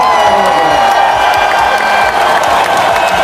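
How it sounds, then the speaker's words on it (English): Loud applause and cheering from children at a school celebration assembly, a dense continuous roar of clapping with shouts and whoops mixed in, sustained at full strength from start to finish. "Let's give her a massive Newton. Round of applause!"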